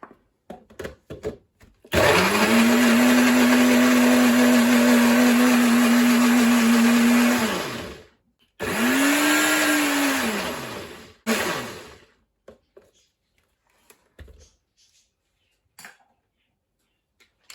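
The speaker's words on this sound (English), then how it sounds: "I'm now going to puree the mango and condensed milk in here." A blender purees mango and condensed milk in a loud, steady whirring run of about six seconds, a short pause, then a second burst of around three seconds, followed by scattered light clinks and knocks.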